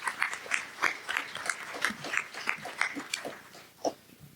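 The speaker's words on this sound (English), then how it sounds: "A round of applause, please." An audience at a ward candidate forum claps for the candidates, an irregular scatter of hand claps from a small crowd that thins out toward the end, heard without talk.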